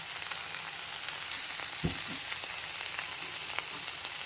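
Mint and soaked tamarind cook in a hot pan with a soft, steady sizzle, faint and continuous, broken by a brief stir.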